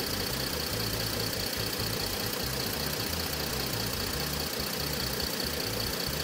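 A Mercedes engine idles in park during a 722.9 transmission service, a low rumbling pulse with a faint whine above it, close and constant throughout.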